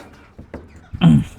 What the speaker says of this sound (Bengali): এই দেখেন প্রিয় বন্ধুরা এখানে আর এক জোড়া কবুতর